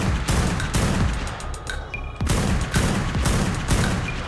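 Gunfire in the video game ARK, rapid repeated shots in quick bursts with brief pauses between, loud and close, forming a dense fusillade throughout.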